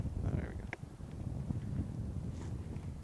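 Steady wind rumbles and buffets across an outdoor high school baseball field, a continuous low roar of gusts hitting the microphone, with faint scattered movement noises underneath.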